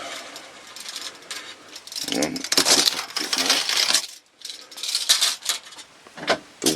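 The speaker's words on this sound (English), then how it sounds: "I'll try and open up the tape measure." A tape measure opened one-handed in a metalworking workshop, a near, bright ratcheting clatter of the metal blade sliding and clicking in uneven runs with brief pauses, while someone talks over it.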